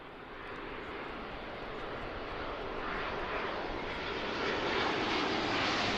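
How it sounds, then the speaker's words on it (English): A Boeing Dreamliner airliner arriving from Naples on approach to Philadelphia makes a broad, steady jet roar that slowly swells louder as it draws nearer, with no talk over it. "here's our next Dreamliner. Coming in from Naples"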